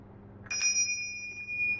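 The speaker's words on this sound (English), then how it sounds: "I'm just going to ring the bell." A meditation bell struck once during a live mindfulness talk, a clear ringing tone that starts sharply and then sustains, slowly fading over a low room hum.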